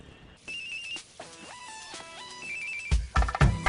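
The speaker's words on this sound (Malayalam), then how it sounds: "എടി, ആ നമ്പറിന്ന് കോൾ വരുന്നു." A mobile phone ringtone sounds for an incoming call, a melodic electronic tune of stepped beeping notes, near and clear, ending in a few louder thumps and rustles.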